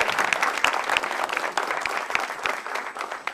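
A studio audience at a televised stand-up comedy show applauds with dense, lively clapping throughout, close and sustained with no speech over it.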